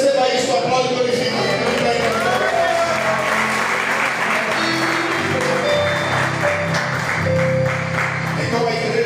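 A church congregation applauding during a Sunday service, sustained clapping under a sung or spoken voice and some instrumental tones, continuous throughout.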